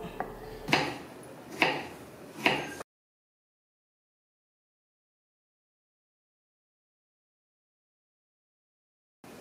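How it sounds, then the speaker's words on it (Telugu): Snake gourd being chopped into small pieces on a board: three distinct, evenly spaced knife chops, followed by silence. "వీటిని చిన్న చిన్న ముక్కలుగా కట్ చేసుకుందాం"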